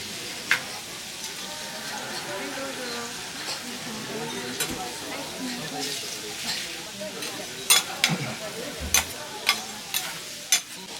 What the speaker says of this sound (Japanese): 鉄板で焼ける音とソースの香り、たまりませんね